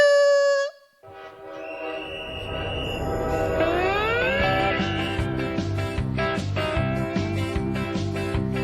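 A train sound effect plays at a children's church service: a sharp horn-like tone opens, then a rising whistle and a steady rolling, clattering rhythm build into a loud, musical train passage.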